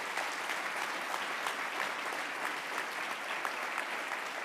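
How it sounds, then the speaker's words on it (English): Sustained applause from an audience in a hotel ballroom for award recipients at an annual meeting and awards presentation, steady dense clapping throughout with no talk. "Let's give another round of applause to all of this evening's award recipients."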